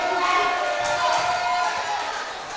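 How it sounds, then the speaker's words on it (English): Gym crowd at a high school volleyball match between Lake Mills and Garner makes a steady, moderately loud murmur with scattered shouts, while a commentator talks over it. "Starting to get some noise in here, so it looks like the crowd is ready."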